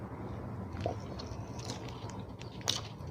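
Someone eats sticky rice with a large mackerel and chili dip, with soft close chewing and a few crisp bites, fairly quiet, no talking.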